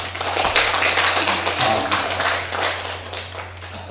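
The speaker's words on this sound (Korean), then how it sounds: "자, 큰 박수 부탁드리겠습니다." Applause at a poetry recitation award ceremony: a steady, dense patter of many hands clapping, fairly close and loud, continuing evenly for several seconds with a low electrical hum beneath.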